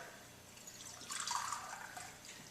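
Soft water sloshing and swirling inside a glass beaker, a brief rinsing burst that rises then fades, fairly quiet and close.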